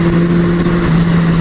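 A Kawasaki Z1000 motorcycle pulls hard in sixth gear from about 60 km/h, its engine a loud, steady drone mixed with wind rush over a short stretch.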